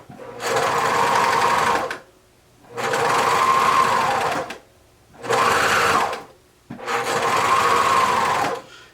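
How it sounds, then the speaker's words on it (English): Sewing machine stitching a pink rib knit tee, running in four steady bursts of a few seconds each with short silent pauses between them, a close, even motor whir. "The first 2 or 3 stitches you need to make with the hand wheel. So there's 1, 2, 3, and then you just sew around."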